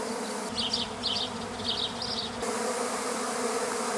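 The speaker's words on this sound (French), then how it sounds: "Il y a plein d'abeilles." A dense buzzing of many honey bees fills the air, a steady hum with sharper buzzes passing close by, continuous throughout without any talking.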